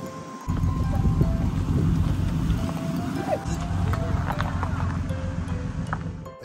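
A horse runs close by, its hooves clip-clopping in a steady rumbling stream, with animals around and people talking over it.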